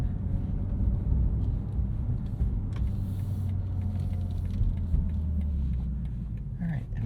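A 2023 BMW M2 with a six-speed manual gearbox driving at Road America, low engine rumble heard steadily from inside the cabin with faint clicks and road noise, no talking.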